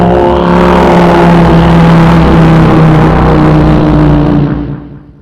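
A human voice imitates a low-flying airplane passing near an aerodrome at about five to six thousand feet: a loud, continuous droning hum with steady engine-like tones that holds for several seconds and then fades away.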